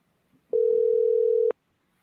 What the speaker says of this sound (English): I'm trying to call her on a different phone here